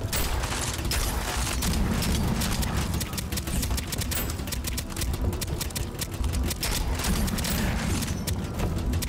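A legendary shotgun in the sci-fi roguelite shooter Deadzone: Rogue fires steadily with a burning fire trail, giving dense, loud, continuous blasts and crackle with little letup.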